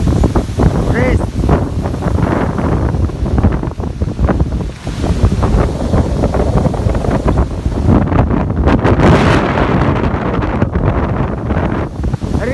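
Strong wind buffets the microphone at a riverbank during a fishing trip, a loud continuous roar with gusty surges, broken at times by a voice speaking under the noise.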